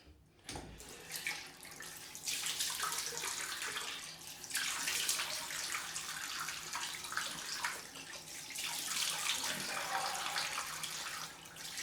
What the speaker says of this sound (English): Cold rinse time.